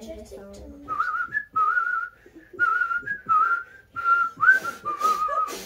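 Several short whistled phrases, wavering and slightly breathy, repeat with brief pauses between them, fairly close and moderately loud, with some handling noise and murmur underneath.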